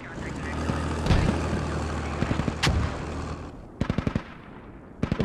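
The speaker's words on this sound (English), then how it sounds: "More mortars coming out" Mortar rounds and gunfire in a military tactical shooter game: heavy booms around one and two and a half seconds over a steady rumble, then sharp rapid bursts of automatic fire near the end.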